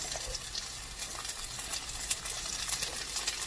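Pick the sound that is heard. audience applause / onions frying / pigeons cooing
onions frying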